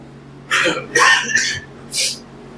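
Three short, harsh coughs, the middle one a double burst, close to the mic in a quiet room.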